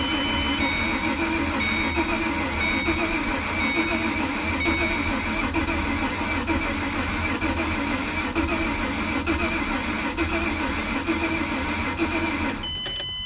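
A Mustang's engine cranks continuously for about twelve seconds, its steady loud whirring starter churning without catching before cutting off abruptly.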